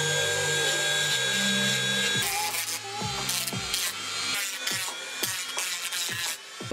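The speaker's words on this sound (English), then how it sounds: "you can take a Dremel and sand the bottom of the leaf" A Dremel rotary tool sands the underside of a leaf made for deer-themed makeup, giving a near, steady high whine that is broken by short gritty bursts and clicks.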